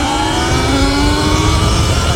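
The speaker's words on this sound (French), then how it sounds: "faire un départ arrêté pour vous montrer un petit peu l'accélération" A rising electric whine climbs steadily in pitch as a Surron Light Bee electric motorbike pulls away from a standstill at full throttle, loud and continuous over rumbling wind noise.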